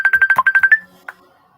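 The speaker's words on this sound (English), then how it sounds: "I don't know whose phone is ringing." A mobile phone ringtone rings nearby in a fast, even burst of about nine tonal pulses, then stops, leaving a single brief blip afterward during an online video meeting.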